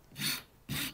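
Two rasping strokes of a hand rasp rounding the back edge of a wooden Danish dough whisk handle, each a broad, close scraping burst lasting about a quarter second with a short pause between.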